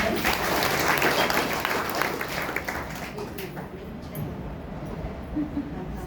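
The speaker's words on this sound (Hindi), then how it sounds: "तो एक बार ताली बजाओ इनका।" Applause from a gathered audience at a Brahma Kumaris spiritual session, loud and full at first, then thinning and fading toward the end, with some voices mixed in.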